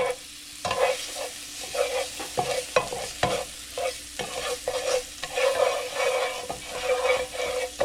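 Butter sizzles in a pan under busy stirring, with rhythmic scraping and clatter over a steady frying hiss, close and moderately loud, with no talking.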